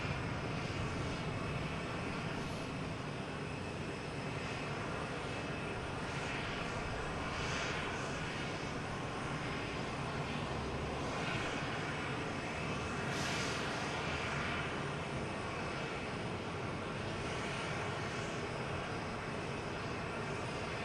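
A Southwest Boeing 737-800 airliner arriving from St. Louis at Boston Logan Airport, a steady, even jet roar heard from a distance that holds unchanged throughout without any talk.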